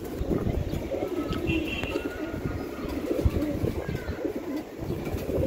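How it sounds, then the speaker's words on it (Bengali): Pigeons in a loft coo and shuffle close by, their low, warbling calls overlapping with scratching and fluttering in a dense, steady stream. Nobody talks. "আজকে এক জোড়া কবুতর দিলাম"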